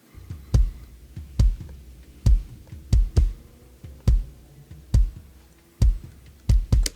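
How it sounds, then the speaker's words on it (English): A kick drum emulation plays back in a low-end mix, its short punchy thumps landing in a loose, slightly uneven rhythm, loud and close with the boom trimmed to a tight bump, and no voices. "that's my kick drum emulation"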